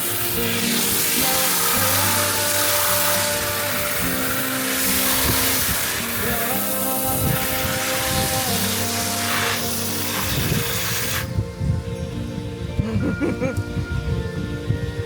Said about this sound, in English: Spraying out these beds, getting all the dirt out